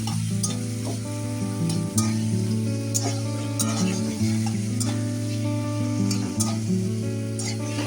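Boneless chicken curry being stirred as it fries in a pan, with a continuous loud sizzle and sharp scraping clicks from the stirring spoon throughout, no voices.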